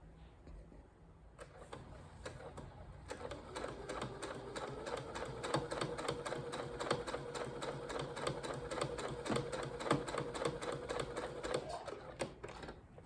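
A sewing machine stitches straight across a paper bag skirt, a steady rapid mechanical run holding for about ten seconds after a few short starts, close and fairly loud with no talk over it.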